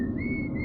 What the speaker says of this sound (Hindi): रात के सन्नाटे में उसकी सीटी की आवाज गूंज रही थी।